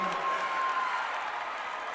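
Steady crowd applause from the student and parent sections at a high school girls' basketball state championship, a continuous wash of clapping heard from a distance beneath a commentator's voice.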